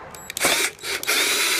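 A power drill in use while building a VW trike whirs in a few short, loud bursts, starting and stopping in quick succession up close.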